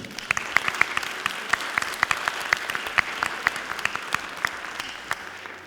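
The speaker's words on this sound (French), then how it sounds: "je vous en prie de vouloir l'applaudir" Delegates at the general assembly of a world women entrepreneurs' congress in Taiwan applaud the host association, with sparse, distinct claps ringing out at a moderate pace in a large hall.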